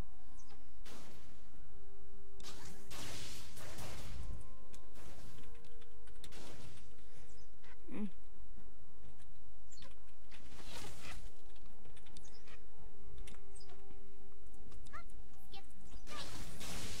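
Typing on a computer keyboard, a continuous patter of key clicks at close range with a few louder thumps, running under intermittent talking.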